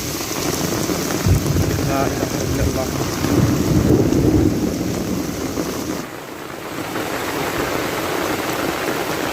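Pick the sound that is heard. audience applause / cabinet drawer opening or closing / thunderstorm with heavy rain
thunderstorm with heavy rain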